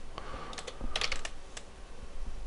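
Computer keyboard keys clatter as a formation name is typed into football scouting software, a quick run of close, crisp clicks with a denser burst in the middle and no talking.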